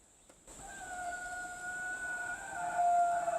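A big male gaur bull gives a loud, drawn-out rutting call in Tadoba Andhari Tiger Reserve, with sustained tonal bands starting after half a second and swelling louder toward the end, with no talking.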